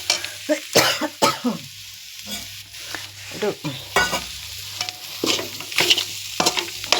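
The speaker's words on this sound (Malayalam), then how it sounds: "എല്ലാം കൂടെ ഇട്ട് ശരിക്കും ഒന്ന് ഇളക്കണം." A marinated mixture stirred in a pan: irregular scraping strokes of a spoon against the pan over a low sizzle, close and uneven in rhythm, with a faint cough-like sound in places.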